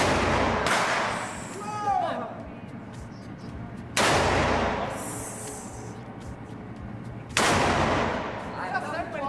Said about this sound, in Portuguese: Vamos finalizar agora com as munição do 358.